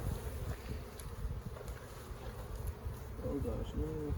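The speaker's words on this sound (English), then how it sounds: "Now these bees, man, they propolize everything," Honey bees hum and buzz over an open hive box, a soft close drone with occasional brief nearer passes, faint throughout and without clear talk.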